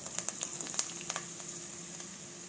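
Curry leaves hit hot tempering oil already holding mustard seeds, cumin and dried red chillies, starting with sharp spitting pops that settle into a steady, moderate sizzle nearby.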